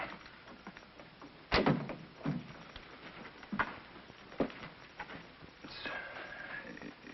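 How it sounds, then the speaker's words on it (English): A door shuts in a 1951 film scene: one sharp thud stands out early, followed by fainter knocks and rustles over a quiet, muffled background. "Close the door."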